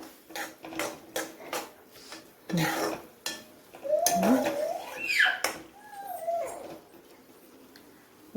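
Pumpkin halwa with fried dry fruits is stirred in a pan, with a run of sharp spoon clinks and scrapes, then a dog howls and whines nearby over the quieter stirring.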